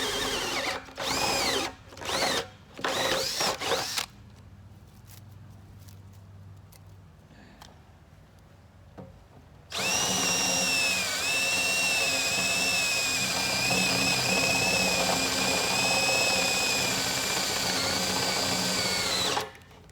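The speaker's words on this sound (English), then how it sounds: "I'm just going to take my drill here and make a few holes" A power drill whirs in several short bursts while drilling holes, pauses, then runs in one long, loud continuous whine before stopping.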